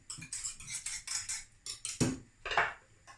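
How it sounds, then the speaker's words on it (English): A whisk rattles against a bowl while salad dressing with citrus is mixed, quick bursts of metallic clinking and scraping in an uneven rhythm, close by and fairly quiet, with no talk. "Whisk it up."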